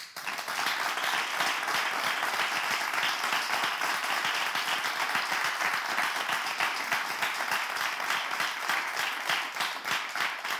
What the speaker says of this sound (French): On va applaudir et accueillir Menteur Ambulant.